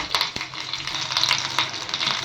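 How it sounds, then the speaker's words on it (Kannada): Curry leaves hit hot oil for a tempering, sending up a loud, close, continuous crackling sizzle with bursts of spitting throughout. "ಇದಕ್ಕೆ ಈಗ ಒಗ್ಗರಣೆ ಕೊಡ್ತಾ ಇದ್ದೀನಿ. ಒಗ್ಗರಣೆಗೆ ಎಣ್ಣೆ ಹಾಕ್ಕೊಂಡಿದ್ದೀನಿ."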